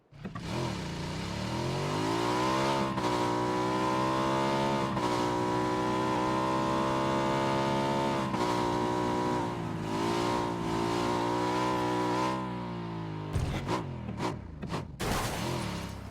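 Motorcycle racing at high speed up a slope in PUBG on the Miramar map, engine holding a loud steady drone for about thirteen seconds before cutting out into a few sharp bursts.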